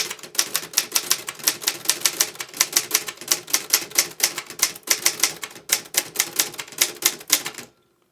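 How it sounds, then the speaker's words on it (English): Steady, rapid keystrokes on an Olivetti Graphika manual typewriter, each strike crisp and close, running evenly with a brief pause before ending abruptly. "now the typewriter is ready to type."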